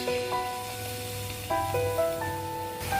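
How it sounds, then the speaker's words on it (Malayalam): Batter-coated bitter gourd pieces fry in hot oil, a soft continuous sizzle and bubbling heard faintly alone, with a few light clinks and tonal hums in the background. "നമുക്ക് പാവയ്ക്ക വറുത്തെടുക്കാം"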